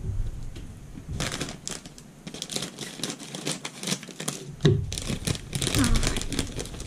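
A bag of creamy dill pickle potato chips crinkles and rustles up close as scissors cut it open, in irregular plastic crackles with a person talking in between.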